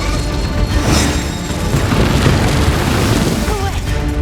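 A cartoon bomb attack blasts in an animated battle, a dense rumbling boom that rolls on for several seconds, loud and close, with a voice briefly heard amid it.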